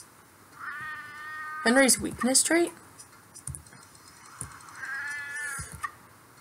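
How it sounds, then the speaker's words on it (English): A cat in the video game Sheltered gives a couple of clear, close meows midway through, over quiet game ambience, while a person talks nearby. "Someone feed the cat."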